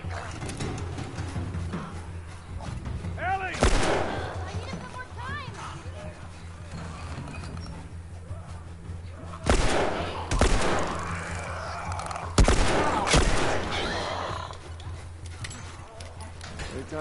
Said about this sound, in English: shooting upside down is so hard